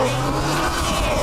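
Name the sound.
SUV wheels slipping on obstacle with ESP turned off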